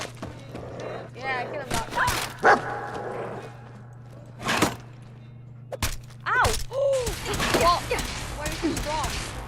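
Dog barks from a video game, in quick bursts amid game effects and a steady low hum, while a player talks excitedly over them.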